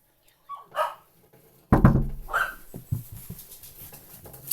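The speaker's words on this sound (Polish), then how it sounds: "Cicho, bądź Samsung, przepraszam was widzowie, ale mój pies jest taki" A dog barks in a few sharp, loud bursts close by, with yelps and whimpering between them.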